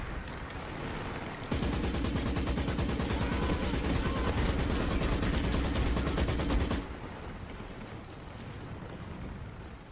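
Rapid gunfire rattles in the World War II strategy video game Company of Heroes 3, a dense continuous burst of shots and blasts lasting about five seconds, loud and close, then cutting off to quieter battlefield ambience.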